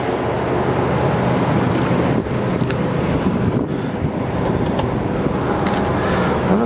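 A 1977 Cadillac DeVille V8 idling cold with the choke on, heard as a steady, loud low rumble throughout, partly buffeted by wind noise against the microphone.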